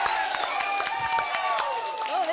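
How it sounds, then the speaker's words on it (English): Audience at a televised Auckland debate applauding a National Party MP, a brief burst of clapping and cheering from a crowd mixed with loud voices, with a whistle-like tone running through. "a big round of applause for National MP Botany"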